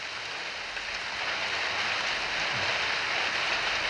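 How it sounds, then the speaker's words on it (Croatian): Steady rain falls outdoors as a constant, even hiss with no break or swell, heard on its own without any talking. "Kako ćeš po ovoj kiši?"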